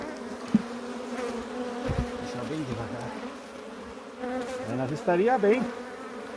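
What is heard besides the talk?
honey bees buzzing around an opened hive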